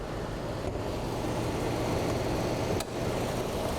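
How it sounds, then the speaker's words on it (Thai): A 2012 Mercedes-Benz E200 Coupe AMG engine idles under its open hood, a steady, even mechanical hum close by with no stumbles. "เครื่องเดินดีไม่มีสะดุดครับ ไม่มีสั่นแน่นอนครับ"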